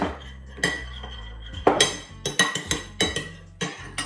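Soy sauce and oyster sauce being mixed in a bowl, with a spoon clinking and tapping against the dish in irregular, fairly close knocks and scrapes.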